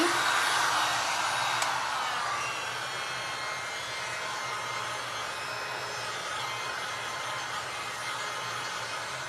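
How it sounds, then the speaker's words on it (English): A heat gun on a lowered heat setting blows over glass and resin art, a steady airy whoosh that starts a bit louder and then settles into an even, continuous roar without talking. "let's hit this with our heat gun"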